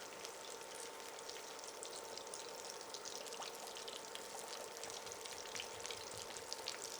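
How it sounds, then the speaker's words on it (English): Ravioli crackles and sizzles quietly while deep frying in hot oil, a steady fizzing with scattered pops, fairly faint and continuous. "Can you see them over there frying up, Sheila?"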